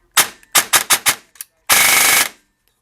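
An M4 AEG airsoft gun, its motor height adjustment screw just backed off, fires several quick single shots in a rapid irregular sequence, then one loud sustained full-auto burst of about half a second, close and clear.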